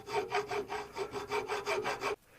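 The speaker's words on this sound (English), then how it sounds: "I'm going to file a flat spot to make it easy to drill it" Steady back-and-forth rasping of a hand file cutting a flat spot on a metal part, about nine even strokes close up with no talk, stopping abruptly near the end.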